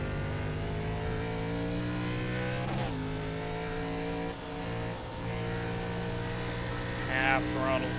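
An ARCA race car engine drones at half throttle around Watkins Glen in iRacing, a steady loud buzzing note that drops sharply once as the car slows, then climbs again.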